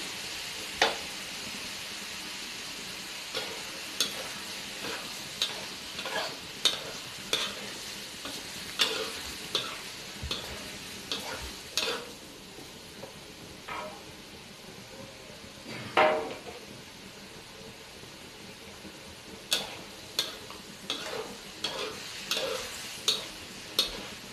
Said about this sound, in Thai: เติมน้ำลงไปบางเล็กน้อย น้ำเปล่า น้ำสะอาดนะครับ